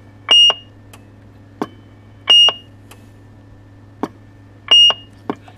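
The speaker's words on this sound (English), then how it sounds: "Kind of a neat sounding Roger beep, right?" A Galaxy DX 959 CB radio sounds its roger beep three times, each a short, bright two-tone electronic chirp followed by a brief squelch tail, spaced about two seconds apart in a quiet room.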